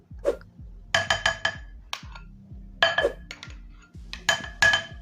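A spoon mixes cream and curd in a bowl, clinking and scraping against the sides in quick rhythmic bursts with short pauses between them. The sound is close and there is no talk.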